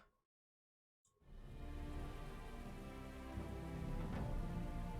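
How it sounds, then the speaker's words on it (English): After about a second of silence, steady heavy rain swells in and hisses continuously during a battle in Total War Saga: Thrones of Britannia, dense and even with no voices. "And we're fighting in the rain."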